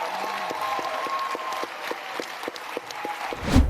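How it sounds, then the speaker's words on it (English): A crowd behind a speaker at a rally applauds, a moderate steady wash of clapping with some rhythmic claps standing out, ending in a louder burst. "Listen to the dipshit idiots behind her cheering"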